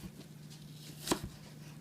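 A single knife chop lands on a cutting board while a gala apple is cut into cubes, a quick near thud followed by a softer tap, over quiet background.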